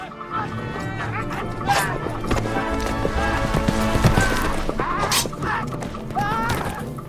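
Horses' hooves clatter amid a cavalry battle in rice fields, busy rhythmic clip-clop close by with whinnies and scattered cries over a loud, dense scene.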